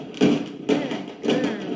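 Recorded fireworks played through a speaker during sound-desensitisation training for a dog, giving three muffled booming thuds about half a second apart, each with a brief crackling tail, at moderate volume.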